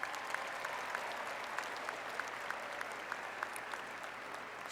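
A graduation audience applauds the faculty at an undergraduate arts and science ceremony, a steady wash of many hands clapping at even loudness through the whole stretch, with no voices over it.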